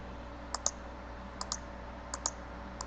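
Keyboard typing during data entry: small groups of two or three quick, faint clicks spaced about a second apart, with a quiet steady hum underneath and no talking.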